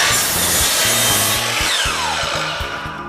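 A power saw cuts through a wood board, trimming off its rough edge, loud and close with a steady grinding whine and a rising pitch sweep as the blade passes through.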